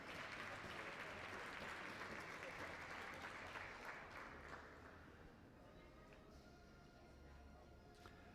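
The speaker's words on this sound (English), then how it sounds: "give him a round of applause" A crowd at a national schools cross country championship applauds a medalist, steady clapping that thins and fades over several seconds, heard at low level from a distance.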